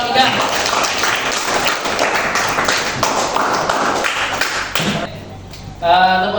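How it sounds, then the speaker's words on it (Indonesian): A class applauds a student group with a dense burst of clapping from many hands that fades after about five seconds, followed by a brief voice at the end. "tepuk tangan dulu untuk kelompok"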